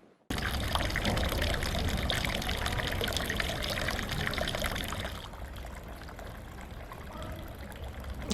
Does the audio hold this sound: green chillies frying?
no